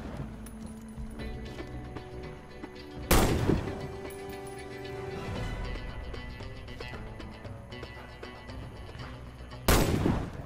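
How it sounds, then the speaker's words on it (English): Sniper rifle fire in the shooter game Warface, two sharp, loud shots spaced several seconds apart over a low background rumble with faint clinks between them. "Hit all the targets with your sniper rifle."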